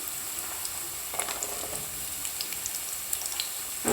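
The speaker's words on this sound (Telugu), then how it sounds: "సో ఇప్పుడు నేను ఇందులోకి బఠానీ వేస్తాను." Green peas tipped into carrots frying in a pan, a steady close sizzle with scattered small crackles and a few light clicks as they land and settle in the hot oil.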